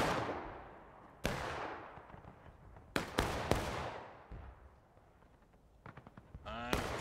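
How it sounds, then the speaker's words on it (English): Cannon artillery fire in the Civil War battle game War of Rights, several sharp booming reports with long rolling echoes, some close and loud, others fainter, scattered irregularly across a quiet battlefield background. "Well, the cannon started going off here."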